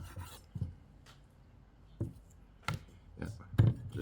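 A knife trims the legs of a wild duck being deboned, giving several short, dull cuts and scraping rasps, close and fairly quiet, spaced a second or so apart.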